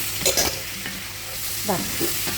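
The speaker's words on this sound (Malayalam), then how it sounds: "നമ്മൾ തിളപ്പിച്ച് വെച്ച പച്ചക്കറി അതിലോട്ട് ഇട്ട് കൊടുത്ത് ഒന്ന് ഇളക്കുക" Boiled vegetables tipped into a hot pan and stirred, a few scraping strokes and soft clatters over a steady low sizzle, close by and alone.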